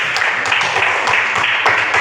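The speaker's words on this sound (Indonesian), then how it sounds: "Tepuk tangan sedikit ya" Students in a microteaching class at a vocational high school give brief applause, with crisp clustered claps rising and falling in loose bursts over a steady crowd wash.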